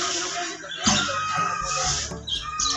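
A blue bar fighting rooster clucks close by in a Philippine cockfighting setting, with repeated throaty clucks and calls that stand loud and alone over a busy background.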